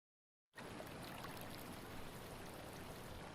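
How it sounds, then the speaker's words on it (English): Water flows continuously in a soft, steady rush after a brief silence, even and close, with no voices. "tune into the sound of the water"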